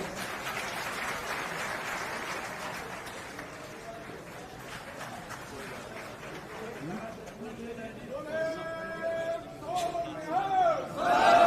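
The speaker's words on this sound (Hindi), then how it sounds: "तालियों के साथ स्वागत।" A crowd at an outdoor political election rally in Assandh, Haryana, applauds and cheers a welcome. A broad, rumbling wash of claps and voices gives way to louder tonal shouts and a rising din toward the end.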